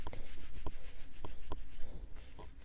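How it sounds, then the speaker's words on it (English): Gelatos colouring crayons rubbed across paper, a steady close scratchy rubbing with a few sharper strokes repeating roughly every half second, no voices. "I usually kind of end up rubbing them a little bit"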